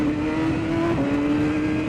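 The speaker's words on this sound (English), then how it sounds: "this bike's got a lot of power compared to that Gixxer I was riding" A racing motorcycle on Bridgestone Battlax V02 slick tires accelerating on track, a steady, loud engine drone with one brief dip and rise in pitch as it shifts.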